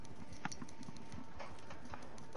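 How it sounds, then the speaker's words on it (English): Steady clip-clop of horse hooves galloping in a video game, Red Dead Online, beating in a quick, repeating rhythm over a continuous noisy background, fairly faint and without talk. "I'm just whipping the crap out of these horses."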